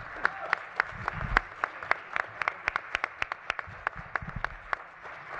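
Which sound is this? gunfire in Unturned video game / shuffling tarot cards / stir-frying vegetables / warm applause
warm applause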